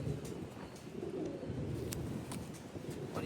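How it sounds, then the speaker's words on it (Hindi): A pet flying pigeon coos nearby in soft, low, repeated throaty calls over a steady background rumble. "ये इस कबूतर की नोट है"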